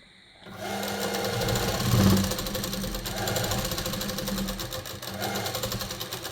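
A sewing machine stitches the lower part of a pocket on a men's kurta, a steady rapid mechanical whir that starts abruptly and runs continuously at close range.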